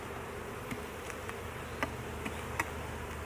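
Honeybees in a hive colony building comb with capped honey give a soft, steady buzzing drone, heard close but quiet, with a few light ticks and taps scattered through it.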